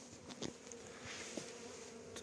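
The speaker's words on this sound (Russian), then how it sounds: "Пчелки уже начали работать" Honey bees buzz around a hive during a spring inspection, a steady low drone with occasional nearer passes over faint background noise.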